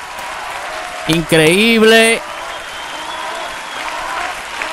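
Audience applause for a singer's performance on the La Academia 2022 stage runs as a steady clapping wash, briefly covered by a man's excited exclamation before it continues alone at moderate level.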